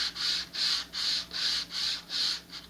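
A sheet of sandpaper scraping under hand strokes while a bevel is shaped on a model rocket part, six or seven even rhythmic back-and-forth rasps, close and moderately quiet, with no other sound.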